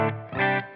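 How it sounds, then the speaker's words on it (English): An electric guitar plays through a TONEX amp model on a deeper, darker Excursion setting, a short sustained chord that swells and fades within a moment, close and fairly loud. "Let's compare that to the deeper, darker excursion setting."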